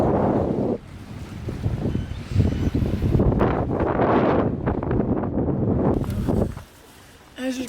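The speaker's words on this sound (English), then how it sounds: "it's a bit windy." Strong wind rushes and buffets the microphone outdoors on a chilly morning beside a van on the road, a loud continuous roar with gusty swells, easing briefly near the start and the end.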